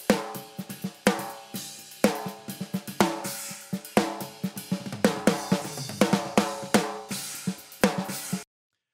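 Full drum mix processed through a multiband gate with no reverb, playing a steady groove of punchy kick hits and crisp snare strikes with tight, dry decays, loud and alone.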